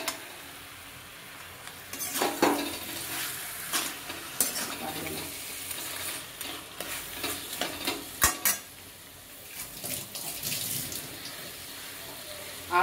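Potatoes and fish heads hiss in hot oil for Bengali murighonto, the steady sizzle broken by irregular clattering stirs and scrapes. The sounds are close and moderately loud, and no one speaks.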